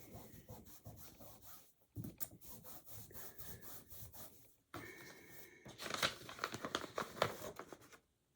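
Quilt fabric being folded back and creased along a quarter-inch seam while piecing a kid's crazy log quilt block, giving dry rubbing and crinkling handling sounds in bursts with brief pauses, close and fairly quiet.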